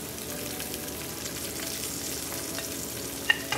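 Onions and seasonings frying in a skillet for Jamaican brown stew fish, producing a dense, even sizzle close by with faint scrapes and a single sharp pop near the end.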